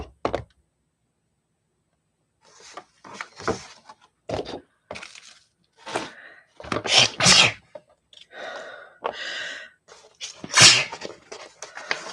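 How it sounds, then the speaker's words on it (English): A person sneezing loudly and forcefully at close range, preceded by a silent pause, followed by several gasping breaths and sharp, explosive sneeze bursts spread irregularly across the stretch. "I am incapable of a tiny little innocent sweet sneeze."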